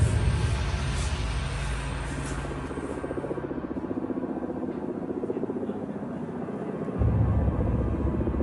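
A low, steady helicopter rotor-and-engine drone fills the air over Colombian jungle, sustained and fairly loud, swelling again near the end as it passes overhead.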